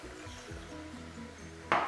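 Water from a glass poured into a hot pan of marinated chicken pieces and cooked tomatoes on a high flame, a sudden loud splashing sizzle near the end after a low steady frying hiss.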